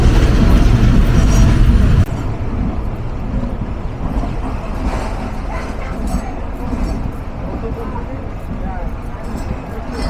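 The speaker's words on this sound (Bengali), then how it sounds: "রকেট মেল ছেড়ে যাচ্ছে সান্তাহার রেলওয়ে জাংশন" Rocket Mail train pulling out of Santahar railway junction, a loud, steady rumble and rattle of wagons on track, with a heavier burst at the start and a dog barking amid the noise.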